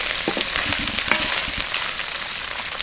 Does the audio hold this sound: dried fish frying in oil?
yes